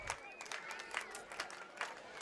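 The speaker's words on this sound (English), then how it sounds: "Home crowd is excited." Home crowd cheering and applauding at a high school homecoming night football game, Le Mars versus Storm Lake, with faint distant clapping and scattered whistles under a steady outdoor wash.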